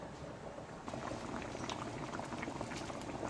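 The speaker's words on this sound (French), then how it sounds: "on va laisser bouillir ça, cuire ça, disons, 10 minutes" Fish and vegetables, including sweet potatoes, boiling in a pot with a steady, dense bubbling and gurgling of liquid, close and continuous, with no voices.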